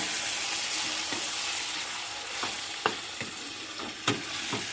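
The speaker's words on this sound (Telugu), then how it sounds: "వేసిన తర్వాత ఒకసారి మళ్ళీ ఇలా కలుపుకోండి" Masala being stirred into chicken curry frying in a pan, a steady close sizzle with several sharp spoon scrapes and clinks scattered through it; no talking.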